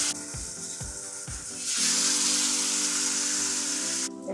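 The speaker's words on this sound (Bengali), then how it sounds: "এবার আমি কড়াইতে বেগুনটা দিয়ে দিচ্ছি।" Roasted, mashed eggplant goes into hot oil in a wok. After a few light clinks, a loud, close sizzle bursts out and hisses steadily, then cuts off near the end.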